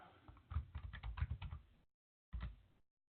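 Quick bursts of key presses on a computer keyboard as a command is entered, a rapid uneven patter for under two seconds, a pause, then a few more keystrokes, close and faint.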